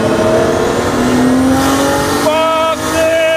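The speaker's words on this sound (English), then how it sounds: "We'll go straight for a third gear pull." Nissan Skyline R32 GTST with a 2.3 Tomei stroker engine in high boost, around 400 bhp, accelerating hard through a third gear pull, engine note climbing steadily and loud, with a brief dip near the end before pulling again.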